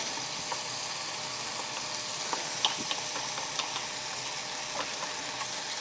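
Thai curry paste simmers with coconut cream in a pot for a catfish and pickled bamboo shoot curry, a steady close sizzle with scattered small pops and bubbles.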